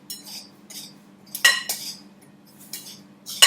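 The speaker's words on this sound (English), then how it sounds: "stir in the sugar and the currants with cutting action and a round dead knife" A round knife works currant-and-sugar dough for Welsh cakes in a bowl, giving light clinks and scrapes against the bowl in short irregular bursts over a faint steady hum.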